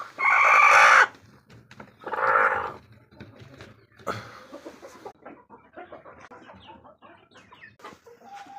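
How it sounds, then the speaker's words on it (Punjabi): Chickens give a couple of loud squawking calls, then soft scattered clucks and rustling continue nearby. "ਇਹ ਤਿੰਨ ਚਾਰ ਮੁਰਗੀਆਂ ਬੈਠੀਆਂ ਅੰਡਿਆਂ ਤੇ"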